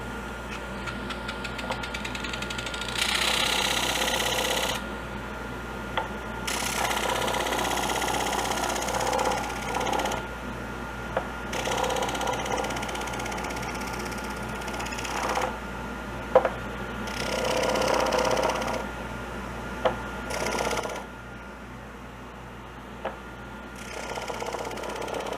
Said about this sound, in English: You don't want to go too fast because it is a plastic that you're grinding down.